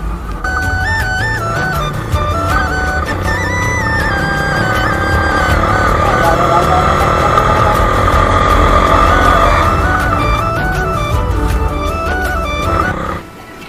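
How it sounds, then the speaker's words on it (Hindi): A motorcycle engine roars loudly and steadily under heavy throttle while climbing uphill near Guwahati, its pitch climbing as it pulls hard, then the sound cuts off abruptly at the end. "अभी थोड़ा सा बाइक को यहाँ पे स्पीड में लेना पड़ेगा"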